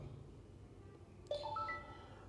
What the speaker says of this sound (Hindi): तो जैसे मेरे मोबाइल में अभी OTP आ गया, आप साउंड सुन सकते हैं।